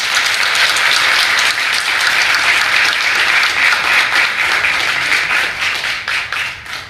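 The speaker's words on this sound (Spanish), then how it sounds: "y le damos un gran aplauso" Sustained applause from an audience at an economics research award ceremony, dense steady clapping for about seven seconds that fades slightly near the end.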